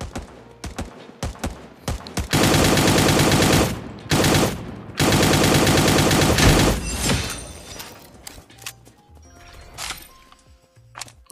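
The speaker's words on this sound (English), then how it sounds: "There's gunshot here." Rapid bursts of gunfire in the mobile game Cyber Hunter, loud automatic volleys in two long stretches with scattered single shots and clatter between them.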